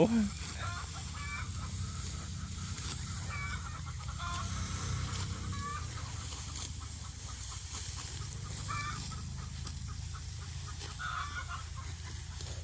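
Hens cluck while laying eggs beside a rice field, their calls scattered and moderately faint over a steady background hum.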